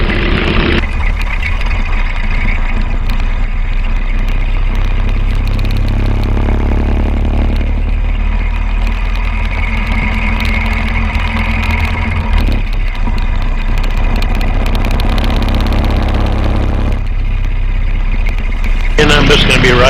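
Motorcycle engine droning steadily while riding the Black Hills wildlife loop road (Route 308) during the Sturgis rally, loud and continuous with wind rush throughout and brief shifts in tone.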